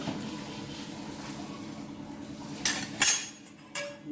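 A metal lid set onto a pot of cooked toor dal, a few sharp clanks and clinks after a stretch of quiet kitchen background hum.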